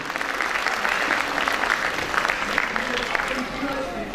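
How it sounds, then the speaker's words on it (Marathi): Audience applause in a hall at a Doctors Day celebration by a multispecialty hospital and doctors' association: dense, steady clapping from a large crowd, loud and sustained throughout. "त्यांच्यासाठी सुद्धा एकदा जोरदार टाळ्या व्हायला पाहिजे"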